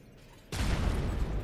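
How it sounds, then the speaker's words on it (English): A grenade explodes in the video game Fear 2: after a quiet moment, one sudden loud blast hits and its rumbling roar stays heavy and close until the end. "Is that a grenade?"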